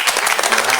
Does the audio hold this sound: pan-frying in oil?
no